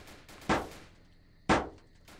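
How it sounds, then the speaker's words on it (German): Two sharp gunshots ring out in the Roblox video game, about a second apart, each a crisp crack that fades quickly, at moderate loudness with no talk. "Ich höre Schüsse."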